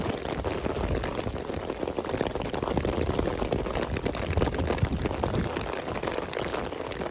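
Heavy rain pours down on a hiking trail along the Appalachian Trail, a dense, constant patter and hiss of drops striking leaves and ground close by, with no talk.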